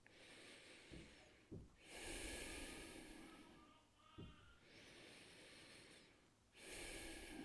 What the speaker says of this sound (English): And I'm just relaxed, breathing in and out through the nose.